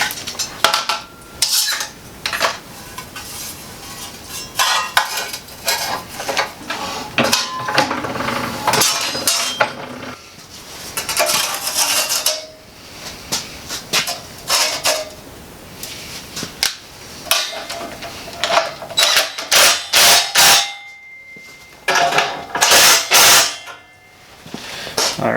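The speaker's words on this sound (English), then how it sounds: "Let me shear this off." Sheet metal being sheared off on a homemade brake: a long run of sharp metallic clanks, rattles and bangs, loud and close, coming in irregular bursts with brief pauses.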